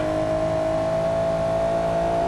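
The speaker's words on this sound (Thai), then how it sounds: "มันเร่งสีเหลืองมันเหมือนแบบลงสนามแข่งอะทุกคน" A yellow Porsche engine revs hard and steady in BeamNG.drive, a loud sustained tonal drone held at high revs throughout.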